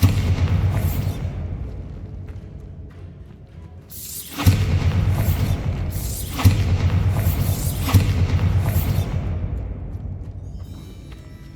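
A Bombarda blasting spell in Hogwarts Legacy goes off as a series of deep, loud booms, several explosive bursts spaced a second or two apart after a quieter stretch, ringing out with rumbling tails and no talk.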